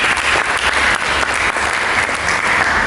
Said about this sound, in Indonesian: Mari kita berikan tepuk tangan.